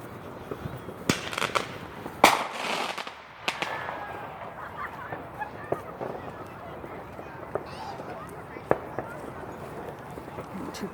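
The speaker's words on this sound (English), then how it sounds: "I'm just waiting for some more fireworks." Canada Day fireworks going off at a distance: scattered sharp pops and bangs, one louder burst near the start, over footsteps in a park while people talk.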